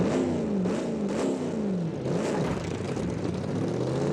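A Geo Metro in a racing video game revs, its engine tone climbing and dipping in quick sweeps, then settling into a steady buzzing drone under faint game noise.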